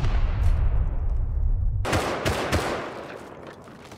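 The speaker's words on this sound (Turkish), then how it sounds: "bir yandan sıkmaya başlayayım" Gunfire in the video game Rust during a raid, a low rumbling barrage that breaks into rapid bright cracks of automatic shots, loud and continuous.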